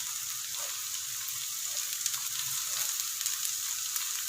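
Chopped capsicum sizzling as it hits lightly golden onions frying in a pan, a steady close crackle with a few brief stirring bursts and no talk.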